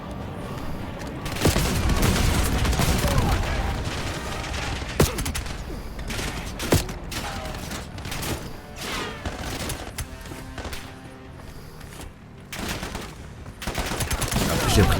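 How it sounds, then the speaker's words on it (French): Automatic turret deployed in Black Ops 7 fires continuous bursts of gunfire amid loud battlefield clatter, with sharp cracks and booms punctuating the steady rattle throughout. "Je déploie une tourelle automatique."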